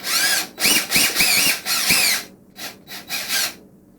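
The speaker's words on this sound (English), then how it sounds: "We're going to take our DeWalt drill." A DeWalt power drill whirs in several short bursts, revving up and stopping with brief pauses between, close and fairly loud, while drilling for a boat's flybridge ammeter gauge.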